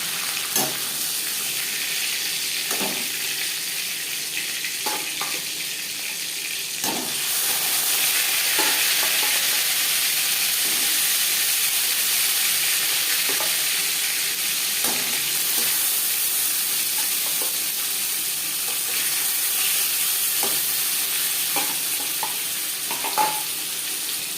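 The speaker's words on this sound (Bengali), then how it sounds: "মাছের মাথা ভাজা হয়ে গেছে একটা পাত্র উঠিয়ে নেবে" Fish heads frying in a pan for a Bengali-style fish curry: a continuous, fairly loud sizzle with occasional sharp stirring scrapes, with no talking.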